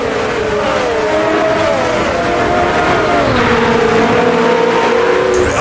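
A vintage-style V8 formula racing car engine in a sim, Cosworth-like, droning loudly at high revs with pitch rising and shifting between gears as the car accelerates along the track.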